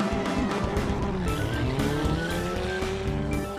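Twin-engine Opel Corsa doing a burnout at a burnout contest in Saxony, engine roaring loud and steady as tires squeal and skid continuously throughout.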